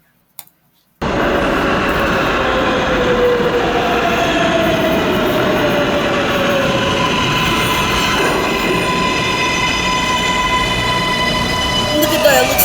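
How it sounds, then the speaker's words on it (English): An R143 subway train on the Z line rolls into Fulton Street station with a loud, sustained roar of wheels and motors, faint squealing tones layered over the rumble, beginning abruptly after a brief silence. "now you can see that is an R143 Z train approaching Fulton Street."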